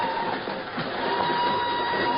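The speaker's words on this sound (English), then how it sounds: "she's aboard a northbound train rolling out of Lisbon" Steady train rumble from a radio drama, a northbound train rolling out of Lisbon: a continuous band-limited roar with a faint mechanical hum, even and unbroken and heard alone.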